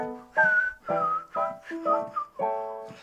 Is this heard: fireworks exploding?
no